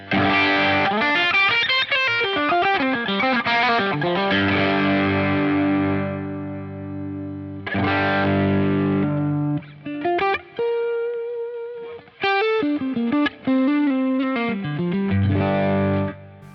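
Overdriven electric guitar through a Beetronics overdrive pedal with bass boost engaged, heavy boosted low end, playing chords and riffs with a few brief pauses, loud with no voice.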